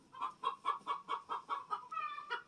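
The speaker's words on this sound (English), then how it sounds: "The chicken won't shut up." A chicken clucks repeatedly in a steady, close rhythm, about ten loud clucks in quick succession beside an off-grid chicken shed under construction, with no talk.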